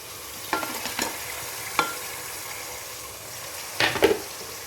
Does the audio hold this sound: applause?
no